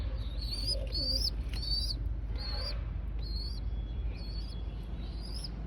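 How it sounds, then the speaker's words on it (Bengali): Pet pigeons kept at a home loft coo softly in repeated short phrases over a steady low background hum, fairly quiet and close, with no voices. "আর একটু করে পায়রাগুলো ছাড়া হবে সব।"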